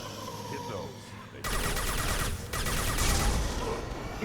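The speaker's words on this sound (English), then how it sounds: "Explosion!" Explosion and gunfire in Mass Effect Legendary Edition gameplay: a sudden loud blast followed by dense crackling bursts of fire and rumbling, sustained and close, with a voice briefly audible over the battle noise.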